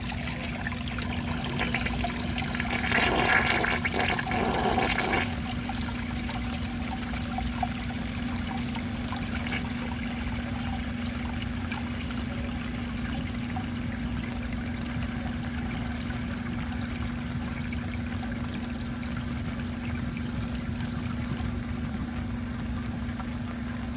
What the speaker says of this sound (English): let's see how it flushes with a clogged siphon jet